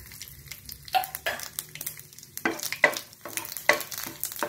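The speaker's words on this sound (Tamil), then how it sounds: "இப்போ கூட கடுகு உளுந்து கருவேப்பிலை சேர்த்து தாளிச்சிக்கலாம்" Mustard seeds, urad dal and curry leaves crackle and sizzle in hot oil for a potato varuval, with sharp popping bursts and a spoon scraping and stirring the pan up close.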